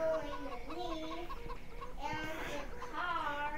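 Farming Simulator 17 chickens cluck repeatedly in a steady, medium-loud series of short calls from the game's farmyard, with a person's voice talking faintly beneath.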